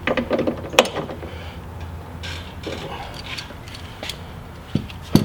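A wrench works bolts tight on a MOPAR tailgate table frame: a few sharp metallic clicks and ratcheting ticks, scattered across a quiet stretch, with louder knocks near the end.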